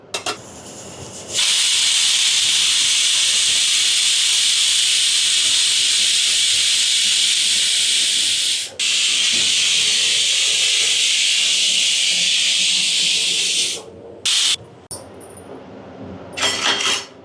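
A pressure cooker cooking goat trotter stew hisses loudly and steadily as steam vents through its whistle, the jet briefly cutting out once, then sputtering and stopping near the end.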